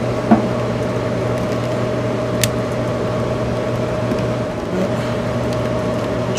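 A homemade solar attic fan runs with a steady low motor hum and constant airy whir, a brief bump near the start, continuous and close without talking.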